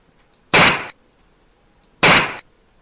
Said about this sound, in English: So the gunfire doesn't sort of tell you where it's coming from.